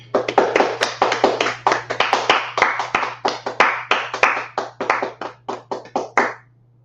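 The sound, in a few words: group clapping hands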